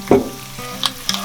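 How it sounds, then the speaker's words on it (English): Mustard seeds splutter in hot oil for lemon rice, giving a sizzling fry with a few sharp popping crackles scattered over about a second, close and alone. "My mustard seeds have started spluttering."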